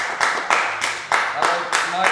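A small live music show audience clapping in unison on cue, about seven sharp, evenly spaced group claps in a steady rhythm, close and fairly loud.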